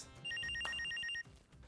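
An electronic telephone bell rings in a quick burst of repeated high trills lasting about a second, fairly clear against quiet background noise.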